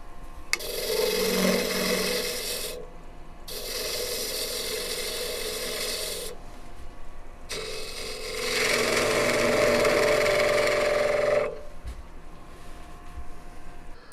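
A wood lathe turning away the corners of a spinning blank, giving rough scraping and rasping bursts separated by short pauses, with the motor hum continuing between cuts.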